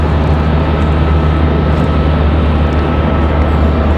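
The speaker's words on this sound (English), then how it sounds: "Looks like Alaska's going to take off on that side." A steady, loud, broadband roar of an Alaska Airlines jet at Raleigh-Durham airport as it prepares to take off, an even rumble with a low hum that stays constant throughout, with no voices.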